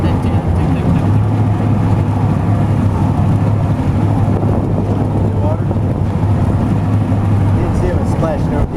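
A jet boat motor runs steadily on open water, a loud, continuous low drone heavily buffeted by wind noise on the microphone.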